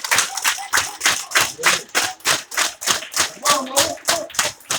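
An audience claps in steady rhythmic unison, loud regular beats repeating about three times a second with voices faintly mixed in.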